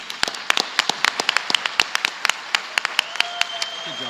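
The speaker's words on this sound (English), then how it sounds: "let's all now join together in applause as we celebrate our incredible Houston" At an awards ceremony honoring Houston leaders, a small audience claps in sparse, distinct claps rather than a dense roar, fairly close, with a faint steady tone in the background.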